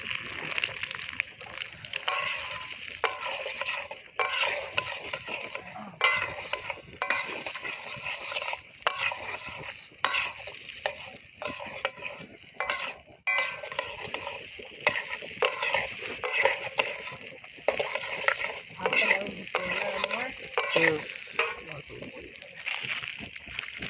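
Potatoes fry in oil in a pan at an outdoor picnic, a continuous sizzle broken by repeated scraping and clattering stirs, with people chatting nearby throughout.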